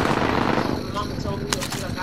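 Rapid automatic gunfire from a first-person shooter video game, a loud dense burst that fades into scattered shots, with a voice talking underneath.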